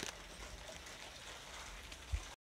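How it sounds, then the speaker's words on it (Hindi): Sudden rain falls steadily in Nainital, a soft, even hiss heard from indoors at a restaurant, faint and continuous, with one brief low thump near the end. "तो बारिश आ गई है अचानक से"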